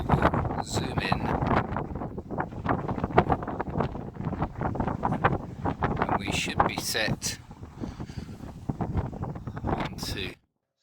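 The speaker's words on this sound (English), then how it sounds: "So you can hear from that it was pretty windy." Strong gusty wind buffets a phone camera microphone on the hilltop of Traprain Law, with loud continuous rumbling and sharp blasts; someone speaks briefly through it before it cuts off.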